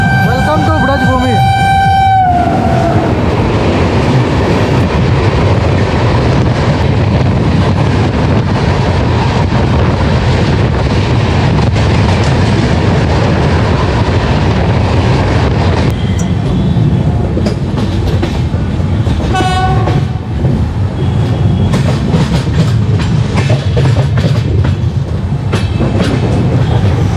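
Samta Express passenger train running at about 130 km/h, a loud, continuous rumble and rattle of wagons with clickety-clack and wind buffeting throughout, a brief horn-like tone near the start.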